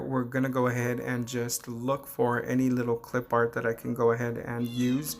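A cat meows repeatedly from behind a closed door, wanting to be let in, its cries faint and intermittent beneath someone talking close by throughout.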